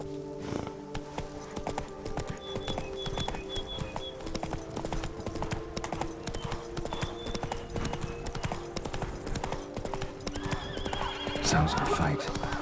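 Roach, a horse in The Witcher 3, gallops with steady clip-clop hoofbeats and whinnies, carried over continuous game music and ambience with a brief louder burst near the end.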